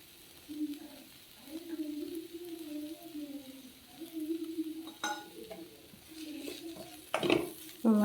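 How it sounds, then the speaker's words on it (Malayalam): Coriander powder is sautéed in a pan for a coconut-free mango curry, with soft sizzling and the scrape and clink of a spoon stirring against the pan in short, repeated strokes. "നന്നായിട്ടൊന്ന് വഴറ്റിയെടുക്കാം"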